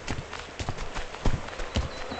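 Horse hooves clip-clop at a walking pace in the farming video game Farmer's Life, irregular hollow thuds from near to moderately close over a faint ambient bed, with no talking.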